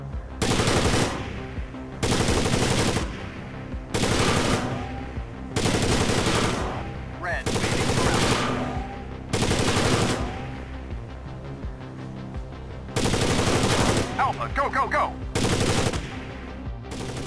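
Bursts of loud automatic gunfire from Rainbow Six 3: Raven Shield, firing in several sustained volleys separated by short gaps, with a voice briefly shouting a command.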